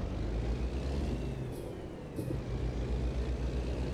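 A heavy truck in American Truck Simulator sets off and starts to roll, its diesel engine rumbling steadily and loudly with two short hissing air releases partway through.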